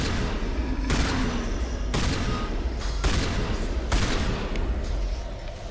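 Rapid gunfire in the Mass Effect Legendary Edition game on Feros: a dense, continuous fusillade with sharp heavy blasts roughly once a second, loud and close throughout.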